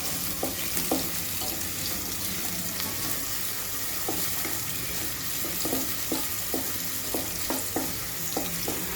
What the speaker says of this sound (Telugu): ఇలా ఆనియన్స్ వేగనిద్దాము. కొంచెం కరివేపాకు వేస్తున్నాము.